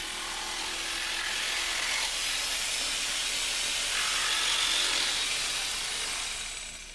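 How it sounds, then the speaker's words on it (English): A jigsaw cuts lengthwise through a laminate flooring board, a loud, steady, hissing buzz of the blade running close by for several seconds before easing off at the end. "Then with the jigsaw, cut down the length of the board."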